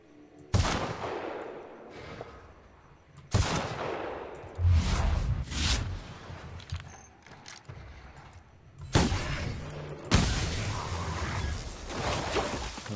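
Gunfire in The Outer Worlds video game: four sharp, loud shots spaced a few seconds apart, each with a booming tail that rings out before the next.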